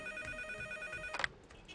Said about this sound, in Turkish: Telefon, Cücük Bey.